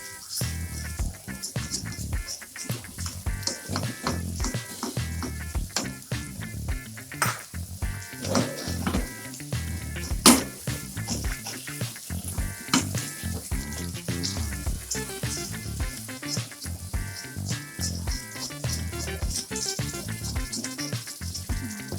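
Steady sizzling of spice paste frying in a pan for beef rendang, with frequent clinks and scrapes of a utensil against metal throughout; no talking.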